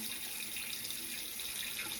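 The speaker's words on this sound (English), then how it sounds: "Shut the water off because we don't want to be wasteful of water" A kitchen or bathroom tap runs in a steady, even hiss of flowing water, fairly faint and unbroken, with no voices.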